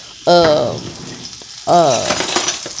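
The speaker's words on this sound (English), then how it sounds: "I wanted to saute my minced garlic, kind of get that going" Minced garlic in grapeseed oil, frying in a pan with two sharp bursts of loud sizzle, each settling into a steady crackle with some stirring scrapes, close and loud, no voices.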